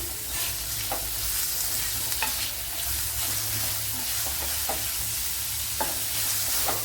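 Sliced cucumber sautéing in a pan for a South Indian sadya side dish, a soft continuous sizzle with scattered clicks of stirring, close and fairly quiet.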